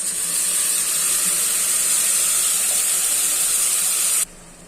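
Ground spice paste for egg biryani hits a hot pan with a loud, steady sizzling hiss that holds for about four seconds, then cuts off abruptly.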